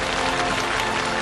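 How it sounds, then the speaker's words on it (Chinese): Studio audience at a televised Liaoning TV Spring Festival Gala selection final breaks into dense, continuous applause that fills the room evenly without any speech. "掌声再次响起，送给他们。"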